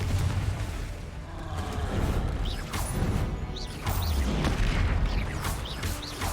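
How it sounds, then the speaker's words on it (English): Confringo fire spells blast in the Hogwarts Legacy video game, a run of heavy booming explosions and crashes with rumbling low ends, repeating every second or so amid magical whooshes and clattering debris. "Confringo. Bombarda. Leviosa. Accio. Confringo."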